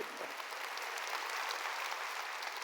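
Sustained applause from a church congregation, a dense wash of clapping hands that holds steady throughout.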